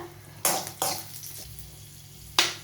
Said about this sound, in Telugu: ఇలా ఫ్రై అయిన తర్వాత కొంచెం జీలకర్ర, ఎల్లుల్లిపాయలు ఇంకా అల్లం వేసుకొని కొంచెం సేపు ఫ్రై చేసిన తర్వాత